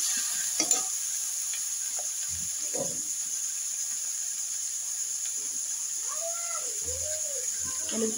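Mola fish frying with potatoes in a pan give a soft, low hiss with a few light stirring scrapes and clinks, fairly quiet and close, with no one speaking.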